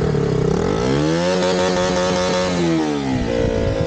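A motorcycle engine with a faulty throttle wire that is not returning revs steadily and loudly close by, its pitch climbing and then easing as the accelerator is held, with no speech over it.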